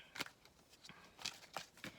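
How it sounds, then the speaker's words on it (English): Tarot cards being shuffled by hand, several quiet, papery riffling bursts spaced irregularly, close and soft, with no voices. "Let me shuffle these cards again."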